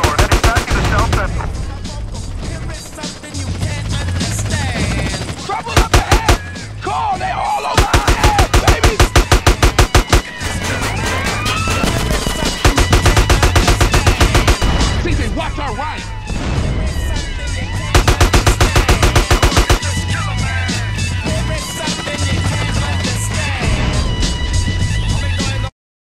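Shootout in GTA San Andreas: rapid bursts of automatic gunfire crackle loudly and almost continuously, broken by brief pauses, with police sirens wailing and voices shouting over the chaos.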